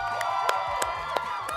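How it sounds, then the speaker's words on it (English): A talk-show studio audience claps and cheers as comedian and writer Hilton Dresden is welcomed on stage: a continuous, lively wash of applause and shouts, steady throughout with a few sharper whoops. "Love all this clapping."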